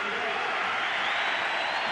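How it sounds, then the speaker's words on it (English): Steady crowd applause fills a rugby league ground during a 1991 Manly Sea Eagles versus Brisbane match, a dense and even ovation of clapping heard at a distance, with faint voices mixed in. "The ovation for a job well done."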